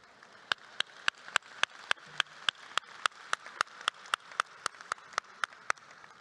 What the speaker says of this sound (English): Let's applaud anyhow.